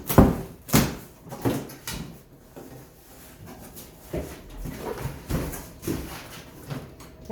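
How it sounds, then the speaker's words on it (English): Cardboard box holding a new bicycle being opened, with a series of scraping, thumping and rustling handling sounds at irregular intervals, close and moderately loud, no voices. "let's open the box"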